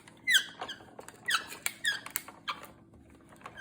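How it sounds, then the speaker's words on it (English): Sharp, high mechanical squeaks come in uneven bursts as a die-cutting machine is cranked with recycled soda-can metal, with quiet gaps between them and no one talking. "Very squeaky."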